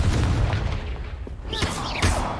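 Deep booming blasts from the Confringo explosion spell in Hogwarts Legacy, a heavy low thump at the start followed by a second burst, with a voice and whooshing spell sounds around them.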